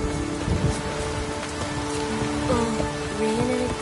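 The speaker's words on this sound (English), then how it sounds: "Oh, raining again." Steady rain patters across surfaces during a storm in The Witcher 3, a dense continuous wash with faint low rumbles underneath and no voices.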